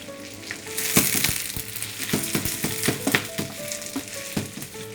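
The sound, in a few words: onions frying in pan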